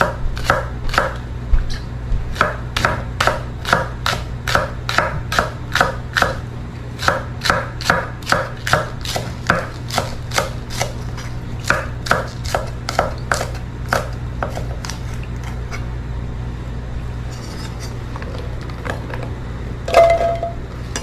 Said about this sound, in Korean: 대파는 송송 썰어주세요.